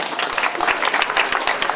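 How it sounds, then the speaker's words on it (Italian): An outdoor audience at a statue inauguration in Agrigento applauds, a dense, steady wash of many hands clapping at once, loud and continuous throughout. "Un applauso per favore."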